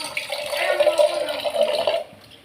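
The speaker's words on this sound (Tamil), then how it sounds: "இப்போ நான் என்ன பண்ண போகிறேன், இதில் தண்ணி ஊற்றிக்கிறேன்" Water pours steadily into a cooking pot of chilli-powder curry base for a lunch dish, a continuous splashing trickle close by that stops just before the end.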